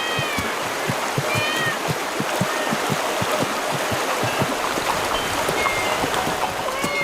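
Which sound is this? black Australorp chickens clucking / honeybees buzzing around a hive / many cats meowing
many cats meowing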